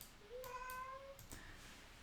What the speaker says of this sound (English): My cat is back in the room again